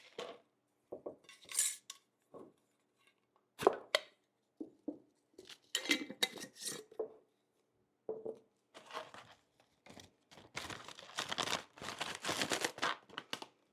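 Plastic crinkles and rustles in short bursts as a zipper bag holding freeze-dried pumpkin pie is zipped, then a longer stretch of squeezing and crackling as air is pressed out, close and fairly quiet, with no voices.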